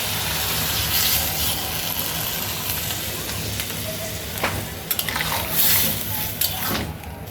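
Water poured onto sautéed cauliflower, potato and eggplant in a pan, a steady broad hiss and rush with scattered clinks and splashes, continuous and fairly close.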